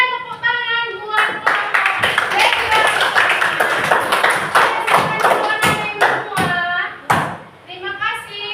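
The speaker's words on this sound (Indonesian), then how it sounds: "Oke, berikan tepuk tangan buat" Clapping from a classroom of students for a student group, mixed with children's voices and taps, with a teacher speaking over it; sharp claps come in bursts throughout.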